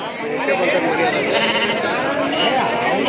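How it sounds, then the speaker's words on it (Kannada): Young lambs bleat at a crowded sheep market in Kerur. Several loud, wavering bleats overlap continuously close by, over a background of market chatter. "ಎಳಗ ಮರಿಗಳು ಅದಾವ."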